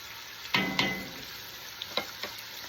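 Beef browning in a pot for stew, giving a soft steady sizzle with a few scraping stirs against the pot, close and quiet, no talking.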